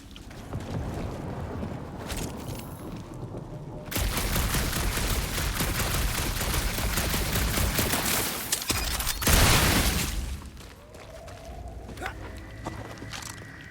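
Peter Quill fires his blasters in the Guardians of the Galaxy game in a loud, dense, sustained volley lasting several seconds, rising out of busy game noise and ending in a sharp final burst.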